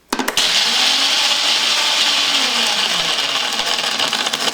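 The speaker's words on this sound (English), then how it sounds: "I will let you operate your own blender." A countertop blender whirs through a Zombie tiki cocktail, starting with a couple of quick pulses, then a loud, steady high-pitched grinding roar that holds for several seconds.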